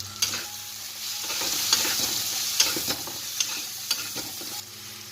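Ground spices with turmeric are stirred and fried in a pan for chicken keema, giving a steady sizzle broken by several sharp spoon scrapes and taps against the pan.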